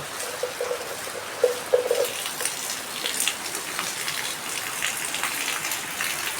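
Heavy May rain falls on a Konkan yard while runoff water flows and pools, a steady broad hiss of drops with a few gurgling splashes early on, close by and without speech.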